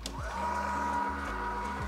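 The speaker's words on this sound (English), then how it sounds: "So I'm going to start grinding and grab a new mug." A Breville Oracle espresso machine grinding coffee, a steady mechanical whine with a low motor drone and shifting tonal hum that runs continuously at moderate volume.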